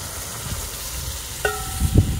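Green peas being stirred into chole in hot spiced oil masala with Kashmiri red chilli, a steady low sizzle broken by a short metallic clink and a few scraping stirs near the end.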